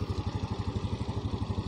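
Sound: Kymco Metica scooter engine idling smoothly after restoration

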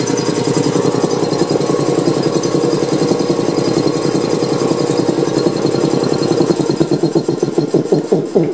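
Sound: air compressor motor running, pumping air

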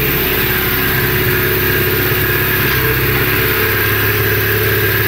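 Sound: homemade all-terrain vehicle's Oka engine running at high revs

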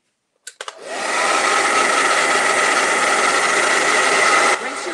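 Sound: hair dryer blow drying

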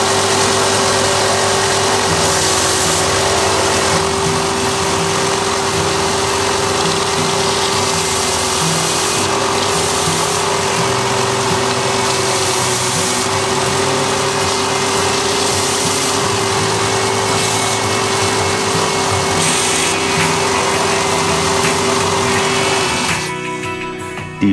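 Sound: belt sander running

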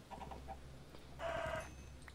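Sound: chicken clucking in Minecraft video game

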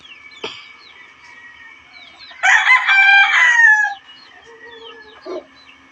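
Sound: broiler chickens clucking and crowing

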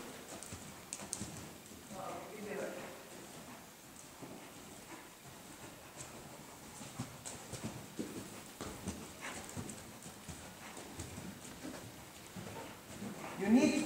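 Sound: hoofbeats of a Danish mare cantering

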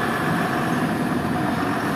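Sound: six-piston Euro 2 truck engine idling

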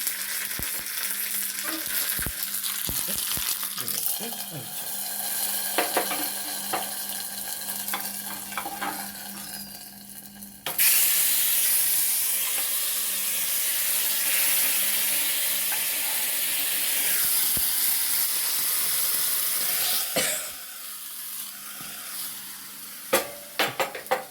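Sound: curry leaves and dried chillies stirred and fried

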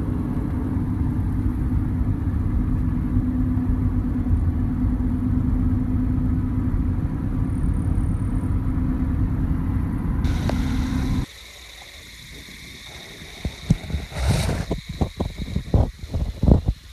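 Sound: car driving down the open road

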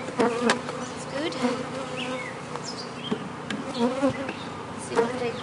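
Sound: honey bees buzzing

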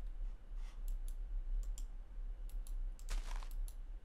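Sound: mouse right-clicking while playing Minecraft

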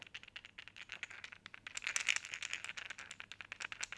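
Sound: wobbler fishing lure rattling when shaken

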